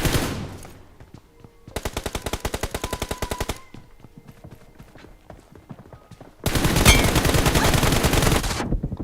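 An M240 machine gun firing in a video game, two long rapid bursts of loud close automatic fire separated by quieter scattered shots and game noise.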